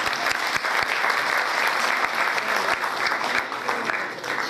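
Audience applause at a school concert of a violin orchestra, a dense steady clapping from a large crowd that carries on throughout and fades slightly at the end.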